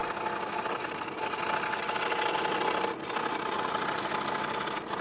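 Scroll saw with a 16 TPI blade cutting half-inch plywood, a fast, steady mechanical buzz with rapid reciprocating chatter, close and continuous with a brief dip near the middle.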